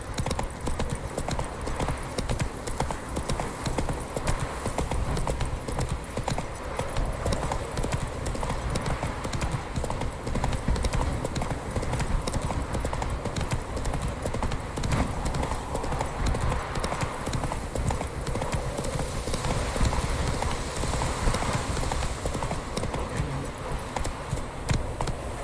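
Galloping hooves of Geralt's horse Roach in The Witcher 3, a fast continuous thudding rhythm lasting throughout, loud and close, with a brief whinny and faint background sound.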